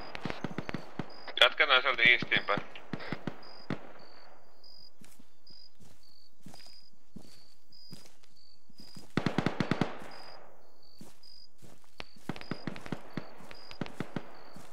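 Bursts of distant gunfire crackle from behind a ridge during an Arma military game session, with clusters of sharp shots spread across the stretch under radio-style talk and a steady high electronic whine.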